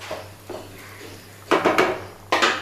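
A lid goes onto a cooking pot of tangy potato and green pea curry in a home kitchen, giving a few close, sharp clattering knocks in two bursts over a steady low hum.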